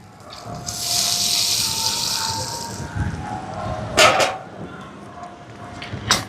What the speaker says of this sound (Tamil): தேங்காய் பால் சேர்க்குறேன்.